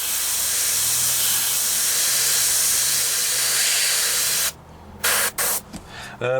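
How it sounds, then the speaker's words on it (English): An airbrush sprays paint onto a 1/48 scale HobbyBoss F-14D Super Tomcat model kit, a close steady hiss of air that cuts off near the end into several short bursts. "let's see how this airbrush works"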